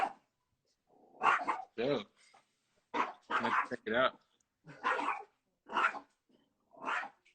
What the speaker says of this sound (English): Dog's got crazy.